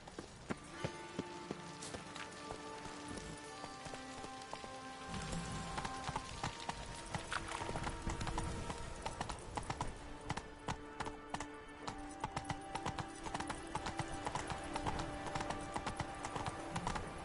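Hooves clip-clop in a steady galloping rhythm as Roach, the horse in The Witcher, runs over open ground, close and continuous, with faint game ambience behind it.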